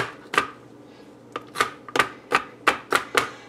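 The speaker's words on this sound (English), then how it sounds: "We're just gonna coarsely chop all this garlic, crush it so it don't." Garlic is coarsely chopped and crushed with a knife on a cutting board: about eight sharp, close thuds, first spaced apart and then coming faster, with quiet pauses between them.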